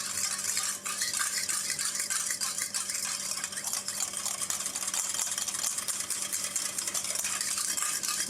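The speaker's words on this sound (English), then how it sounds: "you've probably noticed I'm stirring this quite vigorously compared to when I'm using carbomer" Xanthan gum gel being stirred vigorously in a container, a steady scraping, swishing churn that runs without pause and stays close and even in level throughout.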